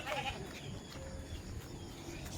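A goat bleats faintly in a rural Filipino setting, a short wavering cry near the start over steady low background noise and distant activity.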